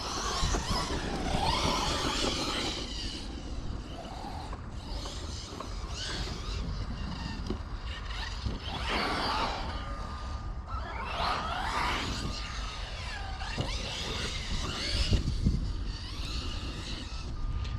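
A Serpent E Muggy 6s electric RC truggy repeatedly accelerates toward full throttle, its motor whining up in rising bursts over gravelly outdoor rumble, moderately near.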